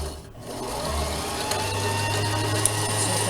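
A domestic sewing machine hums steadily as its pedal is pressed, a low continuous motor drone with faint mechanical ticking, close and alone.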